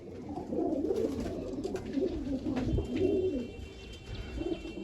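Several pigeons kept in a loft coo continuously nearby, overlapping low burbling calls rising and falling in a dense, steady chorus with occasional soft bumps of movement.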